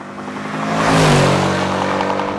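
Mercedes-Benz C63 AMG Black Series coupe engine upshifting under hard acceleration, a loud, close roar that swells, then drops in pitch as the gear changes.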